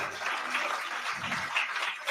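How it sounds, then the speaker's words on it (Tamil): An audience at the Surya and Akshara awards ceremony in Chennai claps steadily, a moderate wash of many hands continuing without a break. "உங்களுடைய பலமான கரகோஷங்களுக்கிடையே"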